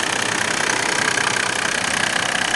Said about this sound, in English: Such a nice idle. Very quiet. I love this engine.